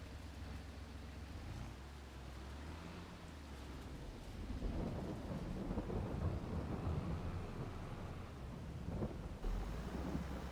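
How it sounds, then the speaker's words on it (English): Thunderstorm in Farming Simulator 22 on the Erlengrat map: deep rolling thunder rumbles beneath steady rain and wind, building louder and denser partway through, with no talking. "the storm's coming in good"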